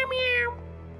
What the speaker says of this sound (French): J'avais cru entendre un bruit, mais je crois que c'était qu'un petit chat.